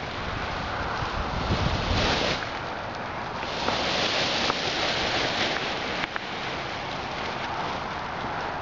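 Steady wind roaring across the microphone, a broad rushing gust that swells and eases without pause, loud and close, with no voices.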